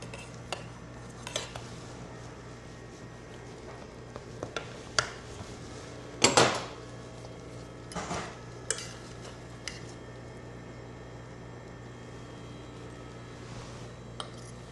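A knife cuts through a gluten-free pizza on a metal pan, giving faint scraping and a few sharp clinks and clatters of metal on metal against a quiet room.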